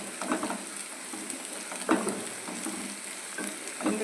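Onions frying in a pan for Telugu-style egg keema, a steady close sizzle with faint crackles and a few soft stirring scrapes, no talk.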